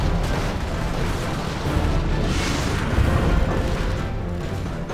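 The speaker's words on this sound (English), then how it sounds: "Here comes the bombs." Bombs dropped by bombers in a Command & Conquer game explode as a dense rumble of overlapping booms, loud and continuous, with heavier thuds standing out among the barrage.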